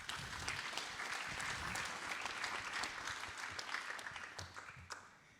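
An audience at a conference session on urban transport infrastructure gives a round of applause, a dense, even wash of many hands clapping that holds steady throughout, heard from some distance.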